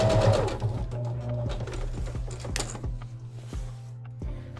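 A sewing machine back-stitches a fabric face mask, a close, loud mechanical run with rapid clicking needle strokes that slows into separate ticks before a final short burst.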